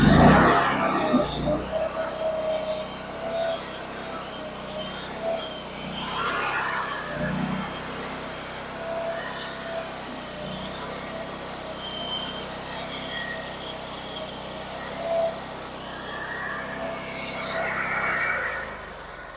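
A Brush Bandit SG-40 stump grinder's engine idles while the machine travels over the ground, a steady low rumble that stays even throughout with a few brief louder surges.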